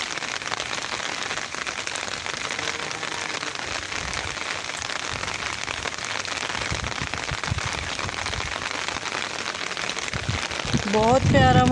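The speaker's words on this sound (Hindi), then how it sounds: "बहुत ज़्यादा बारिश, बहुत अच्छी, सारे पौधे खिले खिले।" Heavy rain pours steadily over flowering plants in a garden, a dense continuous hiss of drops with sharper patters mixed in, swelling louder near the end, where a voice briefly speaks.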